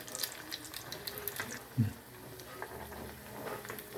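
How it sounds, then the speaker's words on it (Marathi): Corn cutlets frying in oil make a faint, continuous crackling sizzle, with one soft knock from a utensil partway through. "कोट प्लास्टिक तेलामध्ये छान फ्राय करून घेऊया"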